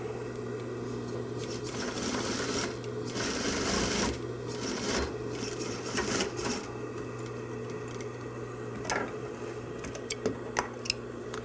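Sewing machine stitching a cornered seam, a close, steady mechanical whirr with rapid needle ticking that surges, pauses briefly and resumes, ending in a few separate clicks and no talking.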